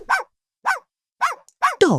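A dog gives four short, sharp barks, evenly spaced and close, followed by a brief low growl or whine. No one speaks.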